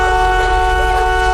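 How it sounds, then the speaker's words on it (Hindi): A car horn blares in one loud, unbroken tone at a deserted camping spot, holding steady for just over a second with no talking. "डर के मारे लड़की जल्दी से कार का हॉर्न बजाती है"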